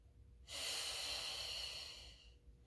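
A single deep, drawn-out breath during a Pilates mat class, a broad airy rush of about two seconds that swells quickly and then fades, close to the listener with no talking.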